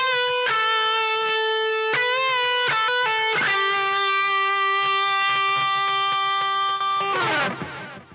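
Overdriven electric guitar plays a solo line over a song's pre-chorus, with picked notes, bends and a long sustained note before a final strummed flourish, loud with no voices.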